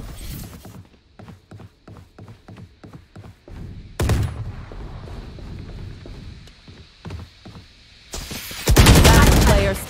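Rapid gunfire from the video game Valorant rings out as a quick series of sharp shots in the first seconds, followed by scattered bursts and a loud, dense volley near the end.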